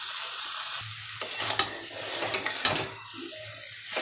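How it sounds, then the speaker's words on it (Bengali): Kochur loti (taro stolons) with prawns is stirred in a pan, a steady soft sizzle with several louder scraping strokes of a spatula against the pan, close and without talk. "আরও কিছুক্ষণ একটু নেড়ে চেড়ে দিলেই আমার কচুর লতিটা হয়ে যাবে"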